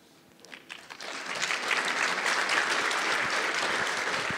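Conference audience applauding at the close of a service-mesh tech talk, a dense steady wash of many hands that swells over the first second and then holds loud and even, with no voices over it.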